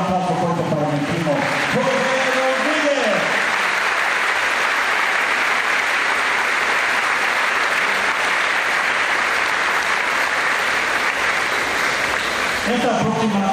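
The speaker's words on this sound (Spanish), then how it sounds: "Por favor, un aplauso fuerte para mi primo." Concert audience giving loud, sustained applause for a performer's cousin; someone speaks briefly at the start, then dense crowd clapping fills the space steadily before speech returns at the very end.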